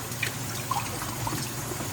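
Water trickles and splashes over a pork shoulder as it is washed, a steady close pouring with small gurgles and drips throughout.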